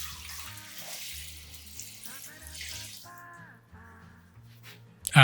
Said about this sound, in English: Fill the bowl up with water.